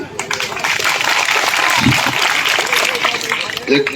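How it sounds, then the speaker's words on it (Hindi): A crowd at a roadside school protest claps loudly and continuously in a dense, close round of applause, with a few voices and shouts mixed into the clapping. "देखिए इस ताली जो बजा रहे हैं"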